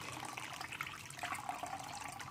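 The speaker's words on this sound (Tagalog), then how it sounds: "So lalagyan na natin ng tubig mga idol. Ayan, tubig." Water being poured into a cooking pot while making vegetables with sardines, a faint steady splashing rush heard close up without talk.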